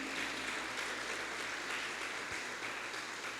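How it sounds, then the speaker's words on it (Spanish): A church congregation claps steadily and densely as a dense, even wash of applause throughout, fairly faint and distant, with no talk over it. "Dele palmas al Señor."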